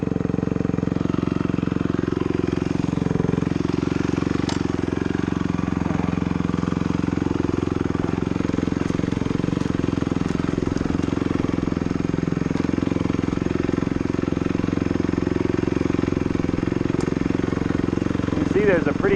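Dirt bike engine droning continuously as it rides down a wooded trail in North Idaho, a loud steady rumble with slight shifts in pitch, under a voice talking throughout.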